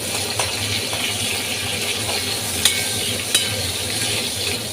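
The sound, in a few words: torn green chillies frying in a pan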